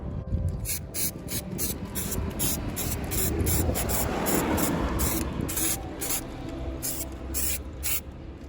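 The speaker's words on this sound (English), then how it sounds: "So I've just got some of this Hammerite underbody seal with wax oil." Hammerite underbody seal with wax oil sprays under an Alfa Romeo Giulietta in rapid repeated bursts, a loud close hissing spray pulsing with short gaps, over a rough rumbling background, with no talk.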